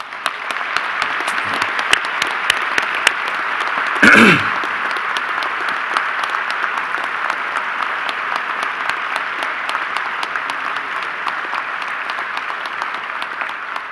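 Sustained applause from an audience at a 2019 award ceremony, steady and dense throughout, with one brief louder burst near the middle.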